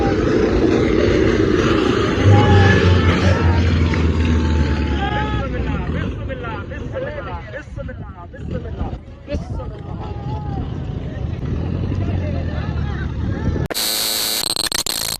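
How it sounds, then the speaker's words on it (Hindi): Two Rusi tractors race with loud engines roaring continuously in a buzzing, straining drone, crowd noise and voices mixed in, ending in a sharp electronic tone. "ये आ रहे हैं जी दो ट्रैक्टर।"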